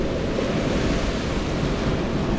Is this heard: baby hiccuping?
no